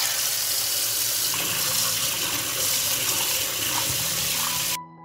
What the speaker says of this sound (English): I'll wash the cleaned grapes one more time.